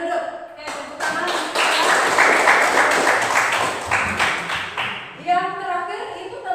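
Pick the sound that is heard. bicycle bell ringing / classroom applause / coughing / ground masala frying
classroom applause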